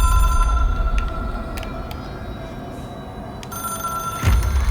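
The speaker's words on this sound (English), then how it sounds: "It is a phone." An old telephone bell rings in the video game Control, a steady metallic trill that pauses in the middle and resumes, heard close over a low rumbling ambience.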